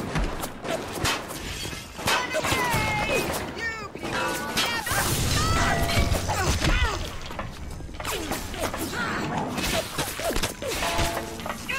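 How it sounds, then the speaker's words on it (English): Glass shattering and breaking amid gunfire in the BioShock video game, with repeated loud crashes and smashes over a dense, busy mix of game sound throughout. "Oh, they're shooting out the glass!"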